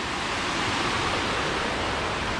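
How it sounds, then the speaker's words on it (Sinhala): Constant close rushing of a stream spilling like a little waterfall over laid stones on a land plot, a steady loud hiss-and-splash texture without breaks or talk. "වතුර වැටෙනවා"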